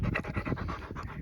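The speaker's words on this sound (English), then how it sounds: "A beautiful dog." A farm dog pants rapidly and steadily at close range, with quick rhythmic breaths and no talking.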